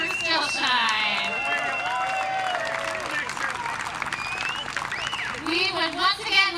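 A crowd claps and cheers for a band at an outdoor summer concert in the Levitt AMP Galva Music Series, with steady applause mixed with whoops and chatter and a few voices rising near the end.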